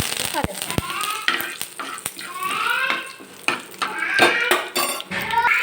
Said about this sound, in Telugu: శనగపప్పు మినపప్పు ఆవాలు జీలకర్ర ఇవైతే వేసేసి ఫ్రై చేసుకోవాలి